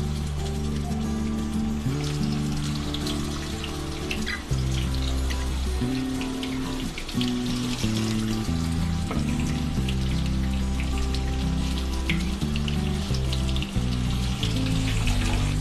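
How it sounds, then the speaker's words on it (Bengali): Pieces of barramundi (bhetki) fish fry in hot oil on a gas flame, giving a continuous crackling sizzle like light rain, partly masked by steady background music with no voices. "এবার তেলটা গরম হয়ে গেছে, এবার একে একে মাছগুলো দিয়ে দেব ফ্রাই করার জন্য।"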